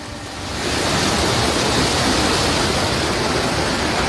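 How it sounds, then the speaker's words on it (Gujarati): Water gushes from an overflowing dam, a loud, broad, unbroken roar that swells in over the first half second and then holds steady and close. "ડેમ ઓવરફ્લો થયો."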